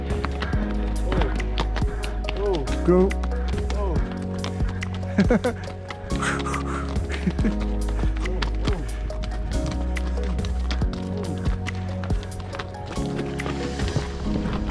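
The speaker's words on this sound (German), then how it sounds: "daher reiten 6 Teilnehmer unserer Gruppe mit dem Pferd." Hooves clop unevenly on a hard, rocky mountain trail in Kyrgyzstan as several horses walk along, with people talking over the steady plodding.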